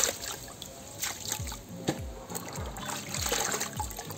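Water draining and trickling from black kadaka root moss soaked in fungicide solution, with a series of soft dribbles and small splashes close by, no talking.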